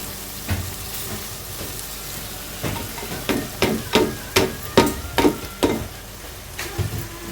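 Cooked rice tipped into a hot pan and stir-fried for restaurant-style vegetable fried rice, a sizzle under a run of sharp, rhythmic spatula scrapes and clacks against the pan, loud and close, with no talking.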